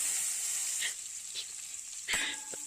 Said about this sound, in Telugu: ఇప్పుడు మెత్తళ్ళు కూడా ఒక వేపి తీసేసుకుందాం.